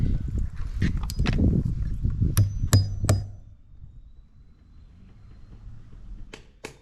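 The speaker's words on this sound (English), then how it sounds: "So we're gonna hammer these nails down." Sharp hammer blows drive duplex nails into wooden concrete forms for a backyard pool, a run of loud close strikes in the first three seconds, then quieter handling noise and two final hits.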